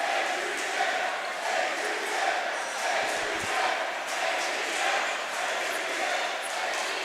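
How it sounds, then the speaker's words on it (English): Crowd at a 2019 boys varsity high school basketball game, Warriors fans, cheering steadily to rile up their team, a dense sustained roar throughout. "You can see the Warrior crowd trying to rile up their team"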